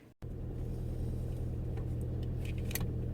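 A car rumbles steadily while driving, with a deep, continuous low drone and shaking vibration that starts abruptly after a brief dropout and stays loud throughout, with faint higher clatter near the end.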